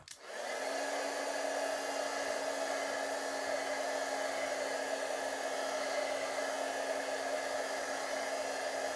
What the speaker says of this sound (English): Probably need to do a little bit of the heat tool.